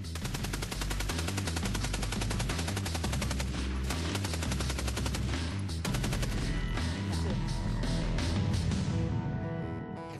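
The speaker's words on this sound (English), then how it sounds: "now I'm going to fire the Maxim." A Maxim machine gun fires long sustained bursts of rapid, evenly spaced shots, loud and close, with the rattle continuing almost without pause.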